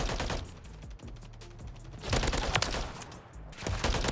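Holger 556 rifle fire in Call of Duty MW3, rapid bursts of shots in several clusters, loud and close, with short quieter gaps between volleys.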